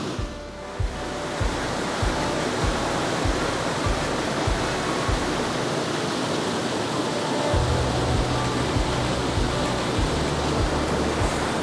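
A stream rushes and churns into bubbles, giving steady broadband water noise close to the microphone, with soft low thumps in the background.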